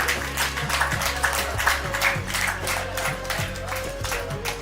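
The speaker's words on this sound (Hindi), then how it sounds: "जोरदार ताली एक बार और हमारे साथियों के लिए" Audience clapping at an outdoor yoga day event, a steady moderate round of applause sustained for several seconds over a low background hum.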